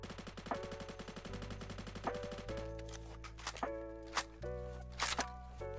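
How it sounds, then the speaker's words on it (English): Gunfire from the Beowulf ECR rifle in the game Phantom Forces on the map Void: a rapid string of loud shots gives way to slower, spaced single bursts. "this is the weapon recoil test for the Beowulf ECR on Void"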